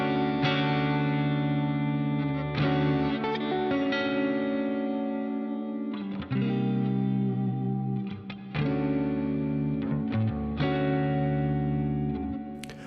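Heavily distorted metal guitar through a drive pedal plugin with reverb, playing loud sustained chords and riffs in bursts that cut off briefly between phrases, with no voices.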